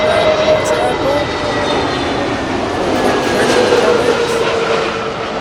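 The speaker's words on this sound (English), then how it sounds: "Air Malta's A320neo coming in from Malta." An Air Malta Airbus A320neo jet arriving at Heathrow, a loud, steady roar of engines close by, broadband and sustained throughout with a faint whine running through it.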